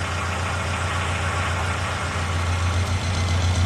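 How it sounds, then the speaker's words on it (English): A car engine idles steadily after starting, a loud constant low rumble with a slight knocking texture throughout, no voices. "now that the engine's on"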